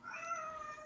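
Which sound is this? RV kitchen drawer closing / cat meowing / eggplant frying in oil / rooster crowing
cat meowing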